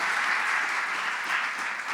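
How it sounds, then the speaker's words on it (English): Steady applause from a crowd, dense clapping that holds an even level throughout with no voices breaking through. "Round of applause, please, for Michelle."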